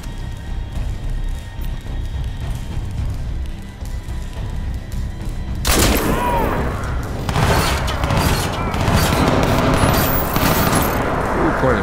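Heavy .50 cal machine gun fire in the shooter game Crysis 2 Remastered, loud bursts and fusillades erupting midway through and continuing with crashing impacts, while a voice talks throughout.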